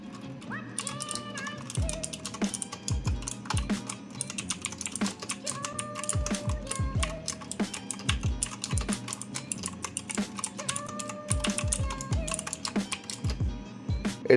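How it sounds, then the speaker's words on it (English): Rapid clicky typing on a Cosmo CBGK29 Black Eye Pro mechanical keyboard with blue switches, dense tactile clacks close up in an irregular stream, with faint background sounds. "I use Cosmo CBGK29 Black Eye Pro mechanical keyboard, which is fully customizable with Parquet RGB mechanical blue switches"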